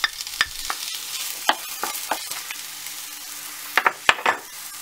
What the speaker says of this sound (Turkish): Tavamızın içerisine 4 yemek kaşığı kadar sıvı yağ koyuyoruz ve yağımızı kızdırıyoruz.